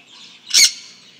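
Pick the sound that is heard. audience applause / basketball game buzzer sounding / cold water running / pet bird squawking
pet bird squawking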